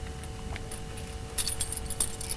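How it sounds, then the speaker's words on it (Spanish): Keys jangle briefly as they are handed over, a few light metallic clinks rising toward the end over a quiet room with a faint steady hum. "Aquí tienes las llaves."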